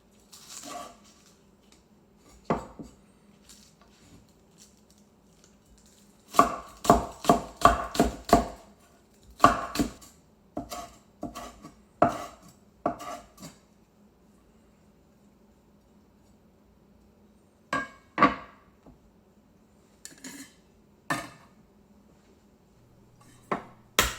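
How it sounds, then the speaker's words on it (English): Knife chopping scallions on a cutting board, crisp close taps in quick clustered bursts separated by quiet pauses, with no talking. "While we are on the cutting board, go ahead and chop up the scallions"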